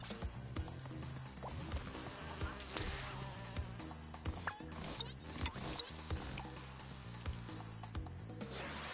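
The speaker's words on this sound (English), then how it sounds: "What am I doing wrong with these bees?" Swarming bees buzz in Crash Bandicoot 2: Cortex Strikes Back on PS4, a busy insect drone running under constant game music and effects, with frequent sharp hits and clicks and no talking.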